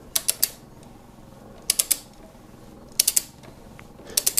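Short bursts of sharp metallic ratchet clicks as a ratchet turns backwards while fitting frame sliders on a 2020–2021 Kawasaki Ninja 1000SX, three or four quick clicks at a time, repeated at intervals, close and distinct with no talking.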